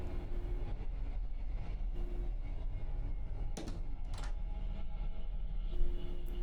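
A train rolls along the rails with a constant low rumble and rattle from inside a carriage, with occasional clicks and metallic squeaks over the steady noise.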